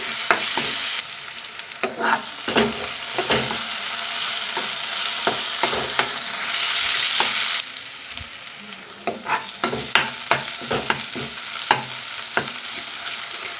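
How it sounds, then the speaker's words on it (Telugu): Curry leaves and masala fry in hot oil for a bottle gourd curry, with a continuous loud sizzle and repeated scraping strokes of a spoon stirring the pan. "కాస్తంత కరివేపాకు కూడా వేసుకుందాం ఇలా కలుపుకుంటూ వేయించుకోవాలి"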